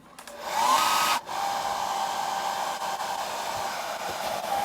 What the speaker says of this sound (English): this is the only time I ever use a hairdryer